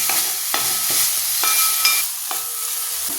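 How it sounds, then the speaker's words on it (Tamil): Ingredients with rock salt sautéing in a pan for biryani, a steady close sizzle with sharp scrapes and taps of a spoon against the metal every second or so. "இது நல்லா வதங்கட்டும்."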